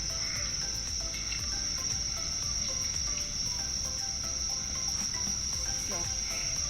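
Insects chirp continuously on a mountaintop, a steady high-pitched trill that holds at an even level throughout, with faint background ambience and no talking.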